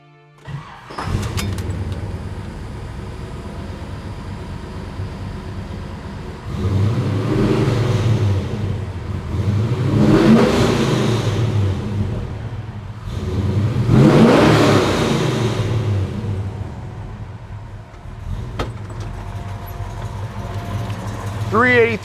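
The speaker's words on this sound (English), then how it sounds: "just you, the clutch, the throttle, and the sound of the V8." 1969 Chevelle with a 383 stroker V8 and 5-speed Tremec, rumbling at idle then revving in several rising pulls, close and loud, while someone talks over it.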